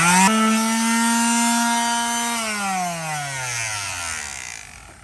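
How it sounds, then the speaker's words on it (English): A power sander works over big scratches in the fiberglass gelcoat of a boat, giving a loud, steady whine that holds for a few seconds and then drops in pitch as the tool spins down. No one speaks. "We're gonna do a little more sanding"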